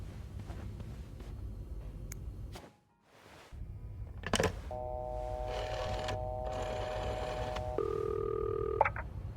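A telephone rings in a video game set in a hotel room, giving bursts of electronic ringing tones after a brief dropout, with other game sounds around it.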